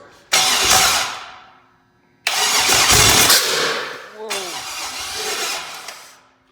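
The starter of an LS-swapped Cadillac engine cranks loudly in two long bursts separated by a pause, followed by a third rougher cranking stretch, close up.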